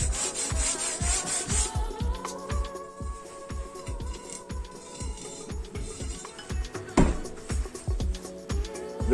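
A file scraping across the broken tip of a concrete drill bit, cutting metal notches: loud rhythmic rasping strokes in a steady back-and-forth pattern, close up, with no talking.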